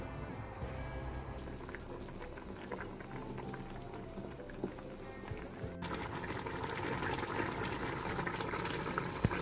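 Water with a coin broth stock tablet bubbles in a pot on the stove, a faint, steady simmer that grows slightly fuller toward the end, with no voices.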